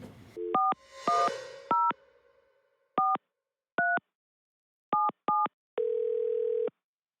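A telephone call being placed: a steady dial tone at the start, then a string of short dialing beeps in irregular bursts, ending with a longer sustained tone, clear and alone with no talking.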